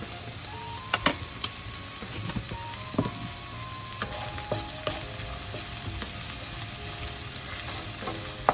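Ingredients for rava upma sauté in a pan with a steady sizzle and frying crackle, broken by occasional clinks and scrapes of a stirring spoon, close and alone without talk.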